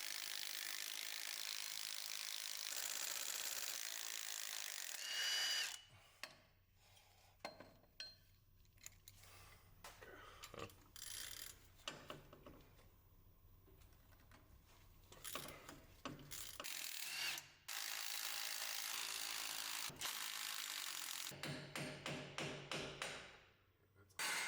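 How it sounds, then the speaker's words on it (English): Ratchet wrench removing driveshaft flange bolts on a 2019-2023 Ford Ranger, with rapid metallic clicking in repeated bursts separated by brief pauses, close and fairly loud with no talk. "Remove the 4 bolts at the front and the 4 at the rear of the driveshaft."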